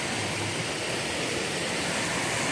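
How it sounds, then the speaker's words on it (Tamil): Cold water from the Panchalinga waterfall rushes steadily around a temple sanctum, a loud, dense, unbroken roar with no voices. "இது வந்து பஞ்சலிங்க அருவியிலிருந்து வர்ற தண்ணி தாங்க"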